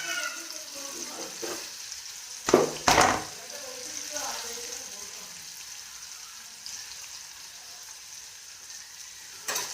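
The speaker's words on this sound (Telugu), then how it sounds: "ఇవి కొంచెం గోల్డెన్ బ్రౌన్ కలర్ వచ్చే వరకు వేగించాలన్నమాట." Green chillies and chopped onions sizzling in a pan for masala vegetable Maggi, a soft steady fry with a couple of sharper clattering stirs early on, then a quieter hiss continuing alone.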